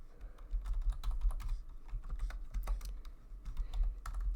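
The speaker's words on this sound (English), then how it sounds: "Just some random stuff I'm typing in." Typing on a computer keyboard, a quick irregular run of close, soft key clicks with brief pauses, no voice over it.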